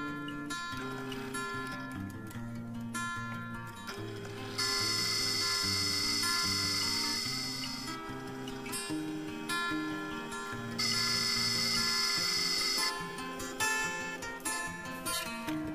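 A small drill bores holes in metal for a wire bending machine, with two sustained high-pitched drilling passes between quieter mechanical whirring and ticking, close and alone with no talking.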